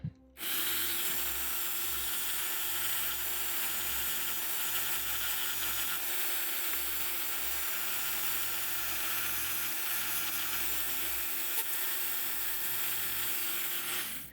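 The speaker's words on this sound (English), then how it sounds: "Okay, now we're gonna go ahead and sand it." A lock pin is sanded in a steady, continuous abrasive whir, a close and even grinding hiss that runs without pause from start to finish.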